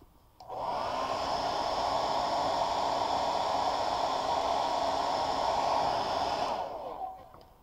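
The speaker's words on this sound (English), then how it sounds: "I'm using a blow dryer." A blow dryer runs steadily at close range, a loud even whoosh with a whining hum that starts abruptly and cuts off near the end.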